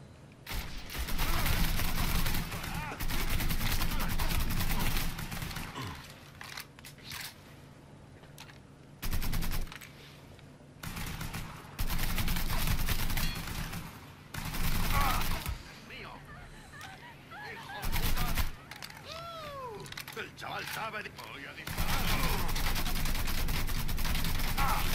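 Bursts of rapid gunfire in the game Mafia III, nightclub mission, come and go in loud stretches separated by quieter gaps, with occasional electronic tones and a voice talking in between.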